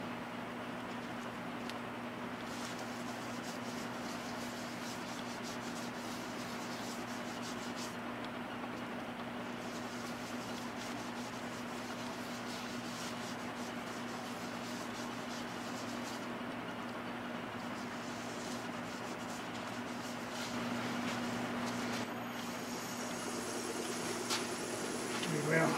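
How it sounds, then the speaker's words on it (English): A leftover epoxy bowl being hand sanded with abrasive sanding paste while it spins slowly gives a steady, even rasping hiss over a low motor hum, continuing unbroken throughout. "You can hear it sanding, for lack of a better word."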